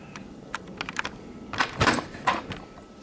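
Knife chopping a vegetable on a cutting board while preparing a quick lunch salad, with a scattered series of sharp taps and a few heavier thunks near the middle.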